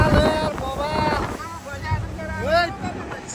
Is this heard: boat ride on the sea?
yes